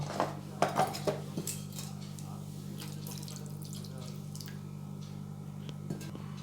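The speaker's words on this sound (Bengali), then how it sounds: "পানি ফলগুলো ছাড়িয়ে নিয়েছি এবার একটু ধুয়ে নেব" Water runs and splashes in a bowl as peeled water chestnuts are rinsed, with a few clinks of cookware up front and a low hum underneath.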